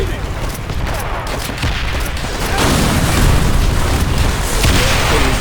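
Gunfire in the war shooter Call of Duty: World at War, a dense, loud, continuous barrage of shots and booms that swells even heavier partway through, with no clear gaps.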